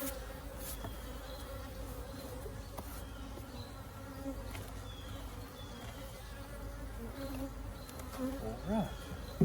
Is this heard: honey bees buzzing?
yes